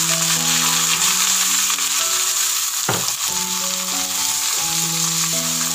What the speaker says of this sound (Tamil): இப்போ இந்த இஞ்சி இதில் நல்லா ஃப்ரை ஆகணும்.